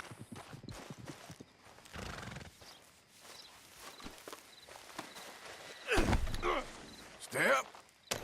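A horse in the Red Dead Redemption 2 video game clip-clops along at a walk, then snorts and whinnies loudly in two bursts near the end. Faint voice-like sounds and breaths mix in with the hoofbeats.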